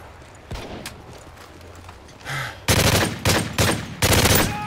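Video-game gunfire in Call of Duty MW3: a few faint, scattered shots, then several loud, close bursts of automatic fire in quick succession.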